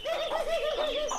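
A male pigeon coos close by while courting a female, a soft, rolling, wavering call repeated several times in quick succession.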